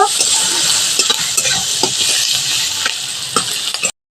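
Chopped onion fries in oil with a dry red chilli, making a bright, steady sizzle with scattered stirring taps and clicks, close and fairly loud, ending in a brief silence.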